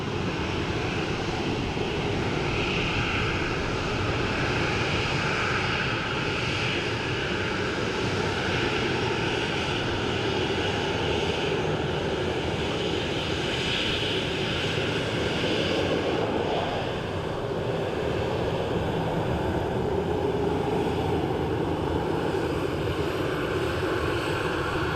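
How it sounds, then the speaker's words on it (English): Turkish Airlines Boeing 737 jet arriving at Dublin Airport, a steady loud roar of engine noise with broadband rushing sustained throughout, no talking over it. "this is our 737 Turkish Airlines in from Istanbul."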